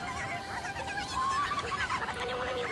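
Chicken-like Oocca people cluck and chatter in Zelda: Twilight Princess, a busy run of short, warbling clucks over a low game background.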